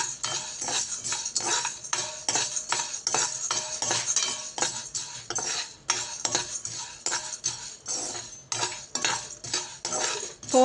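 Green gram and roasted gram being dry-roasted with cardamom in a pan for sweet laddu, a metal spoon scraping and clinking against the pan in quick repeated strokes with brief pauses, close and steady, no talk.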